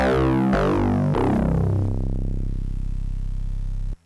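A bright FM synthesizer init patch tone from a Kasser Synths DAFM Genesis (YM2612) with metallic, sweeping harmonics, retriggered a few times, then sustaining and mellowing before cutting off abruptly.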